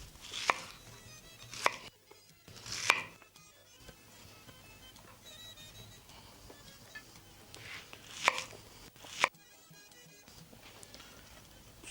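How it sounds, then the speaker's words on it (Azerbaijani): A kitchen knife chops onions on a board, with about half a dozen separate, irregularly spaced cutting knocks against a quiet background. "Soğanı doğrayandan sonra"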